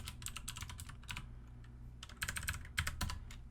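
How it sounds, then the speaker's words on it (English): Fast, irregular typing on a computer keyboard with a bandaged finger, clicky keystrokes in bursts with brief pauses, close and alone. "I'm typing with a band-aid on my finger. Makes typing difficult."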